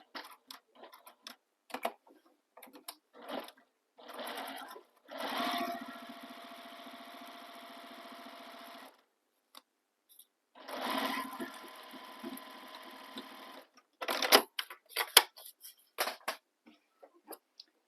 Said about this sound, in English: you can back stitch in the bottom corners too